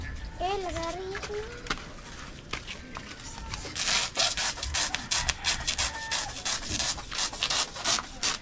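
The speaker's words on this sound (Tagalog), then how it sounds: "Lagari ito." A hand saw rasps back and forth in steady, fast strokes, loud and close, on a construction site during steel rebar work, while people talk nearby.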